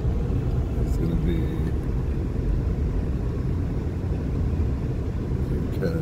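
A truck driving on the frozen surface of Mille Lacs Lake in Minnesota: a steady low rumble of tires and engine, with someone talking over the drone.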